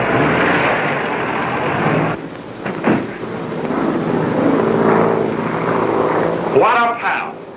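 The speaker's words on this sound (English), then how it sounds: "There's the plane now." A propeller airplane comes in to land, its engine drone rising to a loud roar over a rumbling background, with a voice speaking over it.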